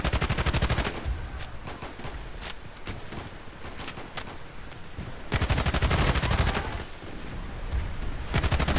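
Submachine gun hip fire in the video game Battlefield Play4free: loud, continuous automatic bursts with rapid rhythmic shots, heaviest at the start and end, close and up front with no talking.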